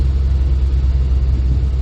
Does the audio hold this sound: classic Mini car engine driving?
yes